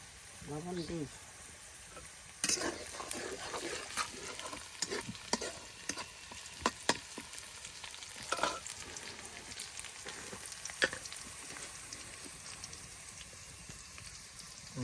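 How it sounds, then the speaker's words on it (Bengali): Onions frying in oil in a pan for a boal fish curry, a quiet crackling sizzle punctuated by irregular clinks and scrapes of stirring, with some talking in the background. "একদিকে এখানে আপনার পেঁয়াজগুলো সুন্দর করে তেলের সাথে ভেজে নেওয়া হচ্ছে"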